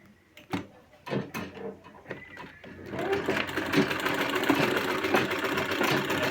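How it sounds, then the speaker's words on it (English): A home sewing machine, just repaired for a loose reverse handle, starts with a few separate mechanical clunks and short bursts, then settles into a continuous loud rattling whir of stitching. "I see my machine is now running"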